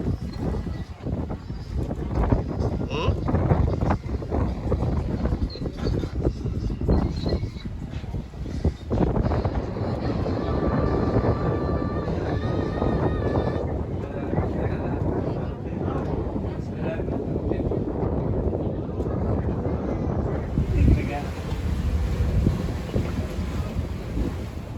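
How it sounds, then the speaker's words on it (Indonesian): Passenger ship KM Sangiang underway toward Ternate port, steady broadband wind and water rush with engine rumble throughout, loud and continuous on deck, with people talking faintly in the background. "Kapal perlahan tapi pasti bergerak ke pelabuhan Ternate."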